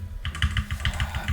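Mouse clicks while installing Ubuntu on an old PC and getting into the BIOS: a quick, even run of about nine crisp clicks, close and clear, with no voices.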